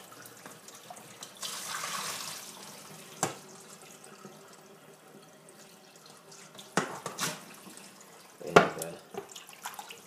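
Water splashes and runs in a sink as smallmouth bass fillets are rinsed. The sound is quiet and close, with intermittent pours and a few sharper splashes against a low background.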